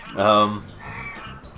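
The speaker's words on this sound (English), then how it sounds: "those birds can get annoying" Crows caw in the PS1 game Frogger, a loud harsh call with harmonic stacks followed by a softer second call, with game sounds around it.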